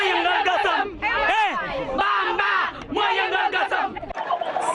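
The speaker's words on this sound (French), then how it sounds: "Devant Maître El Hadji Diouf, la foule est euphorique." A euphoric crowd of supporters outside a courthouse cheers and chants loudly, voices rising and falling in waves of shouting and ululating close by, continuous and dense throughout.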